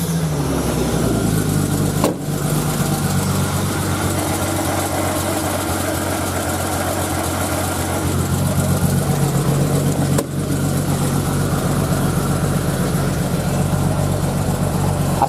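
A 1990 Jeep Cherokee XJ idles steadily through a Cherry Bomb muffler, a loud, even low rumble that runs the whole time, broken only by two brief clicks.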